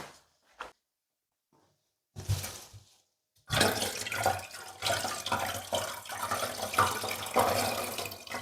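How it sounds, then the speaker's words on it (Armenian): Water poured into a vase of wilted lilac flowers: after a few faint knocks and a brief splash, a steady close gush of pouring water runs on continuously to the end, with no talking. "բերեմ ջուր լցնեմ,"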